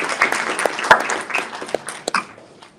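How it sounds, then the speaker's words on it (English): Studio audience applause at a televised political discussion panel, a short burst of scattered clapping that peaks briefly and then thins out over a few seconds. "so let's give him a round of applause."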